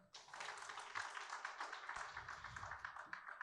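Audience applause at the close of a Korean academy lecture, a dense, even patter of many hands that starts abruptly and continues steadily, fairly soft and distant in the hall.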